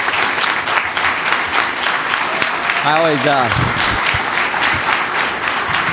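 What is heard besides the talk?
audience applauding a speaker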